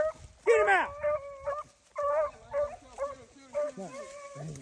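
Beagles hunting swamp rabbits bark and yip in loud, close, excited bursts, with whimpering between the barks and a voice calling out among them.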